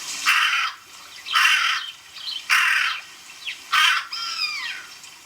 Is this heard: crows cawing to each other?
yes